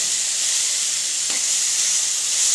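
Cashews, cinnamon and cloves fry in a pan, giving a steady, close sizzling hiss throughout with one brief scrape partway through, and no voices.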